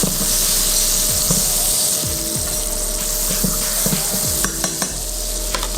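Carrots with garlic and butter sauté in a pan with a loud, steady sizzle and repeated clacks and scrapes of a utensil stirring against the pan.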